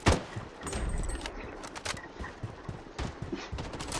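Rapid gunfire in the shooter game BloodStrike, bursts of shots crackling and overlapping throughout, loud and close with some sharper cracks scattered between.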